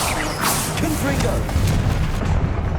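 Confringo blasting spell going off in the Hogwarts Legacy video game, a loud booming blast with a rumbling, crackling tail that rolls on for a couple of seconds amid combat noise.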